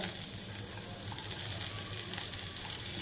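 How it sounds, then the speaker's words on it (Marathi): Crushed garlic and asafoetida fry in hot ghee with cumin, a steady dense sizzle and crackle filling the whole stretch, close and continuous with no voices. "हिंग आणि टेचलेली लसूण लसूण भरपूर घाला"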